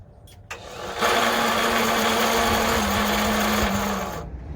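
A motor cranks and catches, then runs steadily with a loud, buzzing whir for a few seconds before cutting off.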